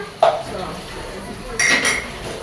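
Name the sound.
dishes and cutlery clinking while tidying in the kitchen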